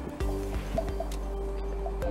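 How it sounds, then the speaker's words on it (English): Oil pours into cups for a kids' acid-base science experiment, with close, soft drips and liquid plinks over a steady low hum. "Keep on pouring until it's 3/4 the height of the cup."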